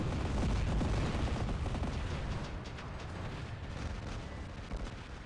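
Loud, dense robot gunfire in War Robots team deathmatch, a continuous rumbling barrage of shots and blasts, heaviest at the start and easing slightly while staying intense.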